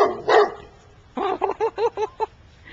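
Safi the dog barks at fox squirrels: one yelp, then a quick run of five or six sharp, close barks in a steady rhythm.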